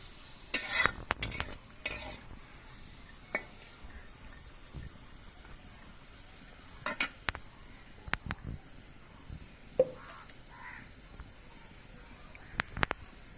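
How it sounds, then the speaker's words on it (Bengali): Chopped carrots, green chilies and other vegetables frying in a pan for chicken chowmein, with a soft sizzle under scattered sharp scrapes and clacks of stirring that come in brief bursts. "এখন আমি এই তিনটাকে ভালো করে ভেজে নেব"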